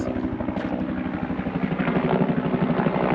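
A helicopter's rotor chops in a steady rapid pulse under a low engine drone, fairly loud and continuous throughout.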